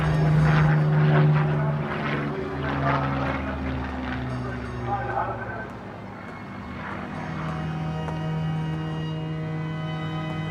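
A Spitfire fighter aircraft drones with a deep, steady propeller engine hum that continues beneath overlapping voices and tonal background sound, moderately loud and constant throughout.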